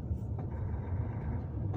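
A truck on the highway near Feira de Santana in Bahia, Brazil, heard as a faint, steady low rumble of engine and road noise with a couple of brief higher clatters.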